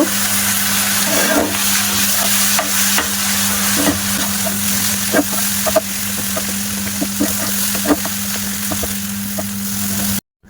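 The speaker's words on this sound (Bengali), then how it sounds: "যে মিক্সারটা বানিয়ে রেখেছিলাম ওটা এবার দিয়ে দেব চাউমিনের মধ্যে" Homemade chowmein made from maida flour is tossed and stirred in a hot pan with a prepared vegetable mixture, producing a loud, continuous sizzle with frequent scraping and clattering strokes throughout.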